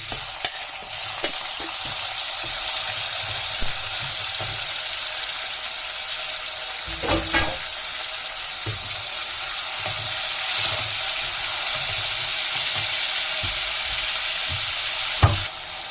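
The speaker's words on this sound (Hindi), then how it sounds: "उसके बाद हम इसमें टमाटर शामिल करेंगे चॉप किए हुए" Chopped tomatoes frying in a pan with mustard seeds and cumin for a Sindhi pakoda kadhi, a steady close sizzle with stirring scrapes and occasional clinks, no talking.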